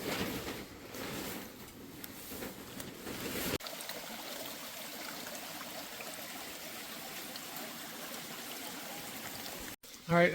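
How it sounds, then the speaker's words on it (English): Water rushing and trickling in a stream while bottles are filled, a steady close babble of flowing water with a shift in tone partway through. "I've filled up at the stream"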